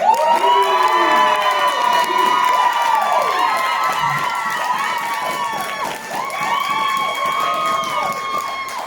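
A crowd at the Long Beach Comic Expo cheers and applauds for James in a Wonder Woman costume, loud sustained shouting and whistling with children's voices, steady throughout and dipping briefly near the end.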